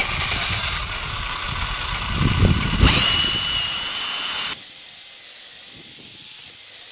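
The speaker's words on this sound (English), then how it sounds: "And now drilling through the board and also through the wedge." A power drill whines and bores through a hardwood bench board and wedge, its pitch shifting as it bites in, then it stops and only a quieter hum remains.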